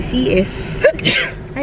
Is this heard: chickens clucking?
no